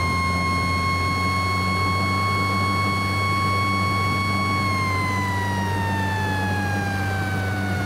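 A police car siren in a Roblox driving game sounds as a loud, steady electronic tone over a low engine hum, then slides down in pitch as the chase shifts.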